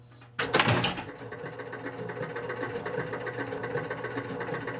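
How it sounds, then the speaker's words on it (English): The score motor of a Spirit of 76 electromechanical pinball machine is running. A clunk starts it, then a brief loud clatter settles into a continuous, moderately loud mechanical whirring and rattling. "Score motor's running."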